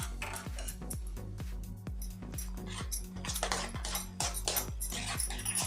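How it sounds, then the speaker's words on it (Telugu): A metal spoon scrapes and clinks steadily against a pan as bread powder is stirred in with the stove off for an eggless caramel bread pudding. The taps are regular, about two per second, close and clear with no talk. "ఇందులో స్టవ్ ఆఫ్ చేసేసిన బ్రెడ్ పౌడర్ మొత్తం వేసుకొని కలుపుకోవాలి"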